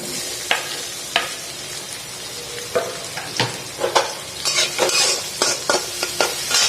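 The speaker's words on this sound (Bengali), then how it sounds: "কড়াইয়ের আওয়াজের যে নয়েজ হচ্ছে তার জন্য ভেরি সরি" Chopped onions stir-fried in a kadai, the spatula scraping and clinking against the metal at an irregular pace over a steady hiss of frying.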